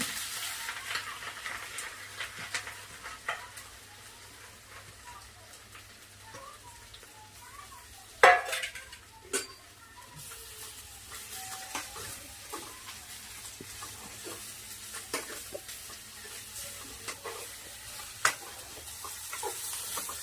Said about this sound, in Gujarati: હળદરને આપણે બરાબરની સાંતળી દેવાની છે।